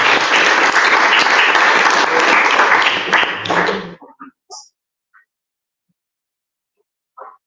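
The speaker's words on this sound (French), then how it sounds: "Merci de l'applaudir." A conference audience claps steadily for a few seconds; the applause stops abruptly and gives way to a few faint, scattered sounds and near silence.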